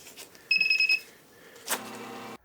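A GS NX-422B money counter with counterfeit detection sounds its alarm at a rejected bill: a short pair of sharp electronic beeps, then a steady buzz-like tone that holds for under a second before cutting off, close and alone.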